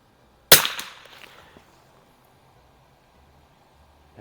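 A single sharp rifle shot from a 1974 Remington 540X cracks out close and loud, its echo trailing off across an outdoor range for about a second before quiet returns.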